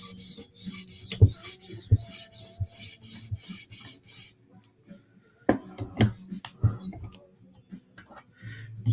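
A blade rasps rhythmically across an acid-etched sharpening stone in a series of gritty, close strokes, followed by quieter scraping and a few knocks.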